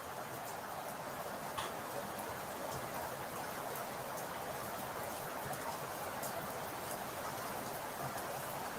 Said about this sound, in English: Is it raining heavy?